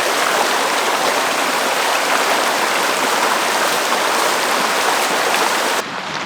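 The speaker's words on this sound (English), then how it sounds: "Pretty little creek." A small creek flowing in the Chiricahua Wilderness, steady close rushing and gurgling of water over rocks, loud and unbroken, with no voices.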